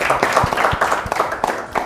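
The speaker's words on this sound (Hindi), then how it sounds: "हमारे इन मेहमान के लिए भी तालियां।" Studio audience clapping for a guest on a cricket television show, a short burst of close, steady hand claps over murmured voices.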